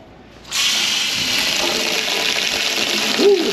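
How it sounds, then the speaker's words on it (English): Water runs steadily from a tap on a boat for a few seconds, a broad rushing hiss that starts abruptly and holds at an even, close level. "I'm just using the water straight out the tap"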